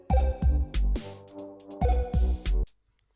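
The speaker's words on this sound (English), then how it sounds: "if the closed hi-hat and the open hi-hat are in the same choke group, it means that when you play the closed hat, it's going to cut off that open hat" Drum machine pattern in a grime beat where closed and open hi-hats share a choke group, so each closed hat cuts the ringing open hat short; punchy kicks and hats play a short loop, close and dry, then stop.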